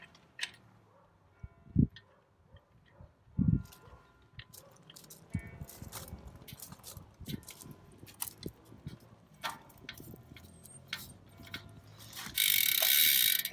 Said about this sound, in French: on met la clé et on force vers l'avant.